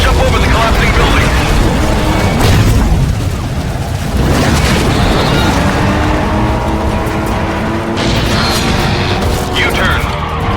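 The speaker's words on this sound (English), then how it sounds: "Jump over the collapsing building." A building collapses with heavy explosive booms and rumbling debris in the Stuntman: Ignition video game, dense and loud throughout, with a voice talking over the crashing din.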